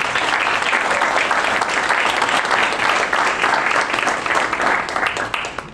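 A crowd of audience members at a youth entrepreneurship competition applauds steadily, dense and sustained clapping filling the room, with no speech over it.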